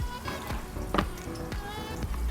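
Onion and garlic frying in sunflower oil make a soft, steady sizzle close by, broken by a few light stirring clicks, with no talk over it.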